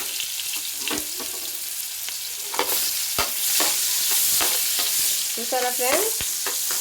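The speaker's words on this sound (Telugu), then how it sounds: "ఇప్పుడు ఇందులో మనం ఉల్లిగడ్డ ముక్కలను వేసుకుందాం." Onion pieces fry in oil and butter, a steady sizzle broken by repeated scraping stirs, close and fairly loud, with a brief voice speaking over it.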